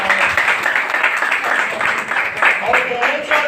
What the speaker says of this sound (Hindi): तो मैं इनके लिए जोरदार ताली देना चाहता